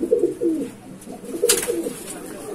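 Madrasi pigeons in a loft give repeated throaty coos, close and fairly loud, rising and falling in short phrases, broken once by a brief hissing burst midway.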